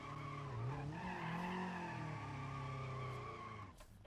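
Tires squeal continuously as a car drifts in BeamNG.drive, a sustained wavering screech over a revving engine that rises and falls, fairly close, before cutting off near the end.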